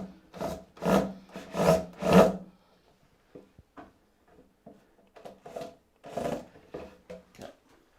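Screws are driven one after another into a wooden dovetailed drawer, giving several loud, close grinding bursts in quick succession, then quieter scattered clicks and handling taps, and one more grinding burst near the end.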